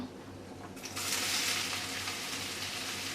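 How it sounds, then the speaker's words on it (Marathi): Chopped onion drops into hot oil already seasoned with black pepper, star anise and green cardamom for a chicken curry. A steady hiss jumps to a loud, even sizzle about a second in and then holds, with no voices. "कढईमध्ये मी तेल गरम करून घेतलेलं आहे तर यामध्ये आपण काले मिरी घालूया चक्रीफूल त्यानंतर हिरवी वेलची आता आपण हा कांदा घालूया"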